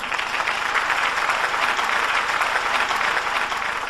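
An awards ceremony audience at the NRI of the Year event applauds in a dense, steady wash of many clapping hands, loud and continuous with no talk.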